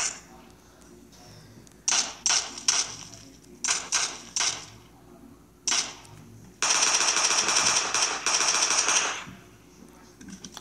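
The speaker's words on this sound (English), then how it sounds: "Who else is shooting at me?" Bursts of automatic rifle fire in PUBG: a few short volleys, then one long sustained burst, loud and close, with no talk in between.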